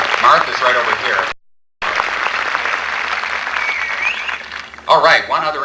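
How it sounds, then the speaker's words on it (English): Audience applause at a Sun City 30th anniversary event, a broad clapping wash with voices mixed through it, briefly cutting out before resuming and swelling near the end. "I believe those two ladies deserve a round of applause too."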